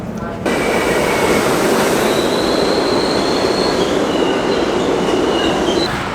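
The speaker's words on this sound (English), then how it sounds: "We are waiting on the 1 train to get to 34th Street and Penn Station" A New York City subway 1 train rumbles steadily with a constant roar, faint wheel squeals and high tones riding over the noise.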